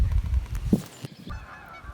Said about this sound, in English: All of the geese are flying off the pond where he was.